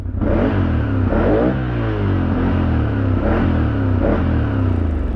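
A QJMOTOR SFA1000 motorcycle revs hard while lifting into a wheelie, its engine roaring loud and close with repeated surging throttle blips over a steady deep rumble.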